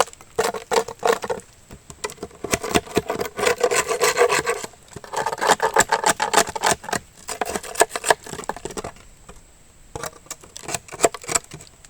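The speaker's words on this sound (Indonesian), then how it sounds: "jadi saya gunakan parang lah untuk membersihkan. Semua propolis ini keras dia tidak lembut sebab sudah terlalu lama dia jadi keras." A machete scrapes hardened, old propolis off a stingless bee hive, producing close, rapid rasping strokes in bursts with short pauses, loud and gritty, with no talking over it.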